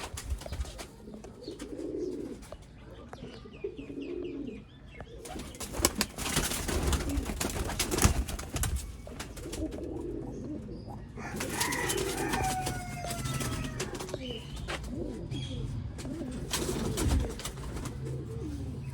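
Hero breed pigeons from a Sialkot breeder's pairs coo in repeated low throaty bursts, several birds close by, with occasional wing flaps and sharp louder noises breaking in between the calls.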